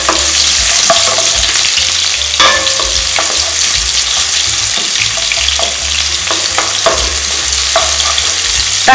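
Ground onion paste fries in a pan for a green chili chicken gravy, a loud continuous sizzle with frequent stirring scrapes close by.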